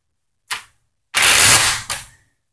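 A loader pushes cartridges into a Russian Izhmash steel AK-47 magazine, giving a short sharp metallic click, then a longer loud scraping clatter and a final click, close up.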